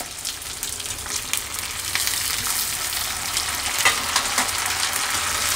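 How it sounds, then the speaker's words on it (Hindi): Onions, green chilies and tomatoes fry in a pan, giving a steady close sizzle with soft stirring scrapes and crackles. "थोड़ी देर, टमाटर भी भूनेंगे।"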